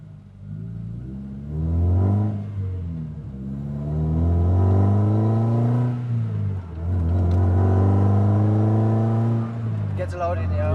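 Toyota MR2 Spyder with a swapped Toyota Beams engine, heard from inside the cabin, revving up and down in a steady rumbling drone under continuous talking.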